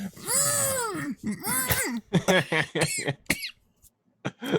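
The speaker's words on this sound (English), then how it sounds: "That made me cough." A string of harsh coughs mixed with strained, groaning vocal sounds, close and loud, ending in a few short choked bursts.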